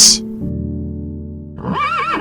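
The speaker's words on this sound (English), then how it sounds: "horse," A horse gives a short, loud whinny that rises and wavers, heard close over a steady tonal backing.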